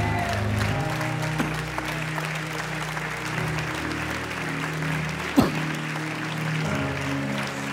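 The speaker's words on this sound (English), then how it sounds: "Would y'all just stand up, put your hands together, and give God a big clap offering." Church congregation standing and clapping together, a steady sustained wash of applause with a sustained musical tone underneath throughout and one brief louder knock midway.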